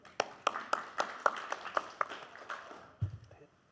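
A small audience at an academic conference welcomes a speaker with a short run of separate, evenly spaced handclaps, about eight in a row. The clapping fades, then a voice begins.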